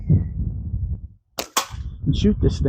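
A slingshot fires two sharp, snapping shots in quick succession at close range, each a brief crack, set between stretches of someone talking.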